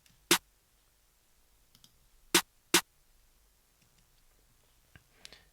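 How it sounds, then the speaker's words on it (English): Accent snare in an FL Studio beat, three sharp, isolated cracks, one early and two close together later, heard alone with faint background clicks between them. "next up we have this accent snare"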